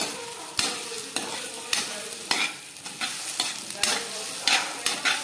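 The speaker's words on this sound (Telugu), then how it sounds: "కట్ చేసుకొని బాగా ఫ్రై చేసుకోవాలి" Chopped egg for egg fried rice frying in a pan with repeated sharp scrapes and clacks of stirring over a steady close sizzle, no talking.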